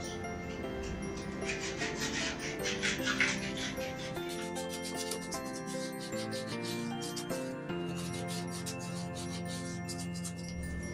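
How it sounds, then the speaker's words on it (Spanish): Steady scratchy rubbing of rolled-up sandpaper along edges, continuous strokes close up, with faint music-like tones running underneath. "enrollamos un poquito el papel de lija y lo pasamos por todos"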